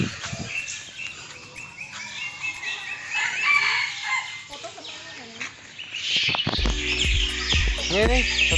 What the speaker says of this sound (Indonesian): Ini ayam bukan ayam biasa loh nih. Katai kan?